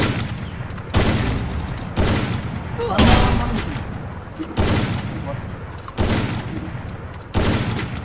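Gunfire in a video game bursts out six or seven times at fairly regular intervals, loud and close with rumbling decays, and players talk between the shots.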